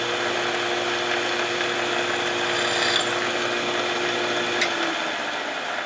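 A drill press drills holes in metal tooling, a steady motor whine with a continuous cutting hiss throughout and a couple of brief sharper ticks near the end.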